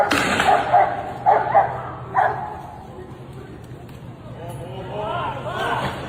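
A dog barks in several sharp yips and bow-wows in the first couple of seconds, fairly close, then fades as a voice talks over the scene.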